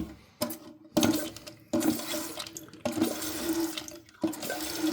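A toilet tank refilling through its fill valve, a steady rush of water close by, broken by a few sharp knocks and pauses as the flow cuts in and out, with no one speaking.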